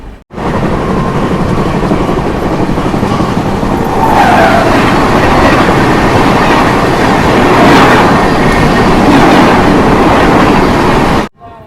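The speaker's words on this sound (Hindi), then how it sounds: "मतलब अपनी ट्रेन का क्रॉसिंग होने वाला चेन्नई राजधानी के साथ" A Chennai Rajdhani train roars past at close range during a crossing with the Ganga Kaveri Express, heard from on board: a loud, continuous rush of wheels and wagons with clattering rail noise and brief squeals for the whole length.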